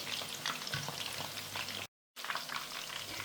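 Crispy pork loin pieces frying in a pan, a dense, steady crackling sizzle that runs continuously with a brief dropout partway through, no talk.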